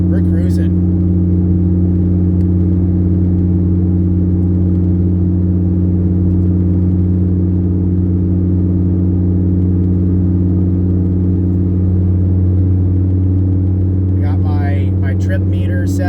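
A rebuilt Chevrolet Colorado truck cruises on the road, its engine a loud, steady low drone with constant rumble heard from inside the cab, and someone talks briefly near the start and end.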